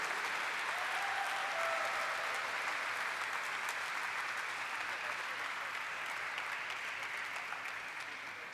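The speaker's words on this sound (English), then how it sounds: "Let's have a round of applause, ladies and gentlemen." An audience at a company stock listing ceremony applauds in a steady, sustained wash of clapping that stays even throughout, with faint voices underneath.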